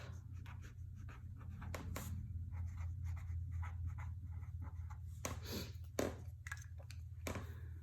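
A pencil writes a name across a worksheet in a steady series of close scratchy strokes, with brief pauses between letters, over a low constant room hum.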